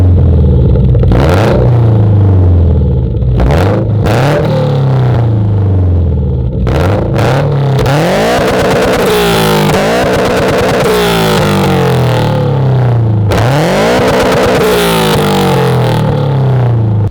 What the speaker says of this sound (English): One thing I could say about this exhaust is that the drone is very minimal.